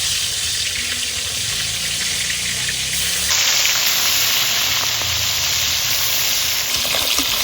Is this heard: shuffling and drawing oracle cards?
no